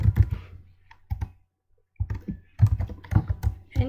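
Code being typed on a computer keyboard: close, crisp key clicks in quick clusters, a short burst, a brief gap, a full pause of silence, then a busier run of rapid keystrokes.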